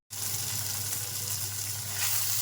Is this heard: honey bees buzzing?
no